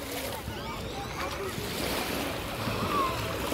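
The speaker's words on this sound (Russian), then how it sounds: "Волнишко прям приятное" Sea waves wash onto the Black Sea beach at Anapa, a steady broadband surf with wind across the microphone, continuous and moderately near throughout.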